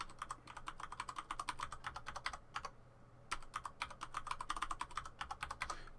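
A password being typed on a computer keyboard: quick bursts of crisp key clicks with a short pause midway, close and fairly quiet.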